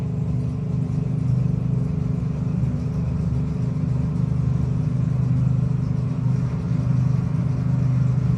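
Chevrolet Vega drag cars racing down a no-box drag strip, a loud sustained engine roar and rumble that holds steady throughout without breaks.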